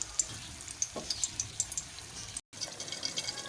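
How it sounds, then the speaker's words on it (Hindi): Chillies lightly frying in a pot give a faint, soft sizzle with scattered small crackles and pops, steady and without any talking. "इसे हल्का हल्का फ्राई करेंगे"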